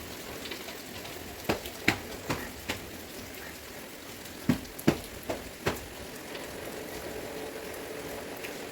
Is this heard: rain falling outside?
yes